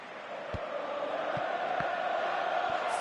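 A stadium crowd in a PS4 football video game keeps up a steady, broad roar with a rising murmur of cheering and a few faint thuds of the ball underneath.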